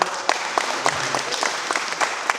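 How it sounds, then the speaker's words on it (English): An audience applauds in a close, continuous patter, with a few sharper individual claps standing out at a loose, regular beat. "Give yourself a round of applause, yeah"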